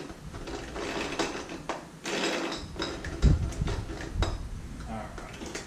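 An Aero Flex trimmer head is worked off a string trimmer, with irregular close plastic and metal clicks, rattles and a brief ratcheting clatter.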